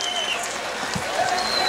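Audience clapping at a commemoration gathering, a brief burst of dense applause with a voice speaking over it.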